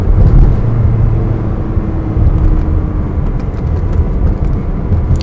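A 2004 Ferrari 360 Spider with about 10,000 miles is driven at speed, a loud, steady low engine drone mixed with road and wind rush, rising slightly as it winds out.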